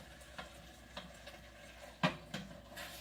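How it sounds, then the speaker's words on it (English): Sloppy joe mixture with onion being stirred in a pot, a few soft scraping strokes with one sharper knock of the spoon against the pot near the end, under a low steady background. "stir it all together"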